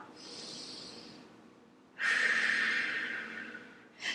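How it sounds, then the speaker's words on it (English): A deep breath pushed out through the mouth during a yoga or pilates floor session, heard as a soft breathy rush followed by a longer, stronger exhale that trails off, then the start of another breath, with no talking. "Exhale through the mouth."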